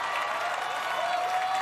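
A crowd at an American Ninja Warrior course applauds and cheers as a veteran competitor clears the tire swing, a steady wash of clapping and voices.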